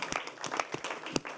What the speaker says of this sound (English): Can we get a round of applause to the man who makes it all happen,